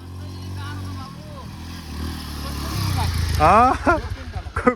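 A motorcycle with an older engine rides past on a rough monsoon-damaged road, its engine rumbling and rising as it nears, while people talk loudly over it.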